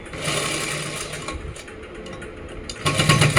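A sewing machine runs steadily while stitching a plazo hem, with a loud, continuous whirring drone that briefly eases and then surges louder near the end.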